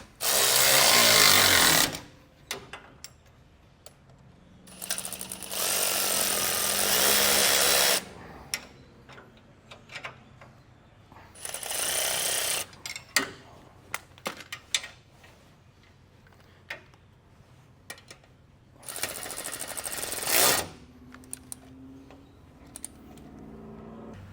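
A power tool snugs down trailer hitch bolts inside a vehicle frame during an EcoHitch hidden front mount installation, four loud whirring bursts of about two seconds each, with metallic clicks and rattles from hardware in the pauses between.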